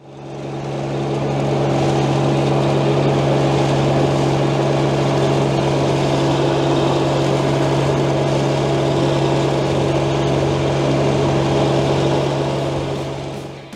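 Kubota FC3 261 mower topping rough grass in a field, its engine droning loud and steady with a strong low hum, continuous and without talk.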